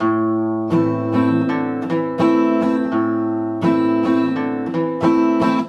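A short guitar riff played cleanly without a hammer-on, notes plucked in a steady rhythm with sustained ringing tones, close and solo with no voice.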